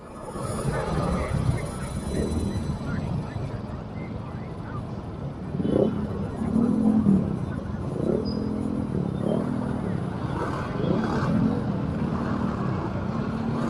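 Busy road traffic rumbles steadily nearby, with engines droning and swelling as vehicles pass in a continuous low hum, no talk.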